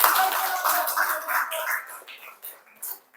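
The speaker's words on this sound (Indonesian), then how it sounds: "Oke, kasih aplaus sekali lagi." Classroom applause for a group presentation, a burst of many hands clapping together that thins out and fades into scattered last claps.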